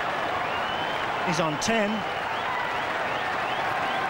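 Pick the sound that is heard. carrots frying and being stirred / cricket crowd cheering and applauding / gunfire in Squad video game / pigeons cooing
cricket crowd cheering and applauding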